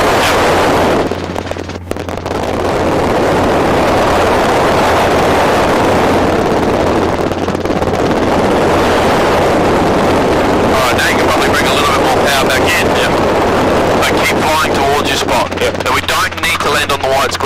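A Robinson R22 helicopter descending under reduced power gives a loud, steady drone of engine and rotor with a low rhythmic beat and wind rushing over the microphone throughout, while people talk over intercom on top.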